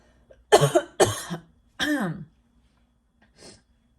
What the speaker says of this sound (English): Let me cough one moment.